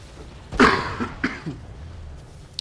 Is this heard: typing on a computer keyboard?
no